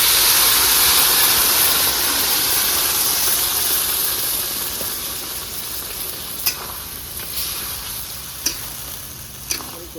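Spice paste hitting potatoes frying in hot oil in a village-style home kitchen, a steady loud sizzle that eases over time, with a few sharp stirring clicks near the end.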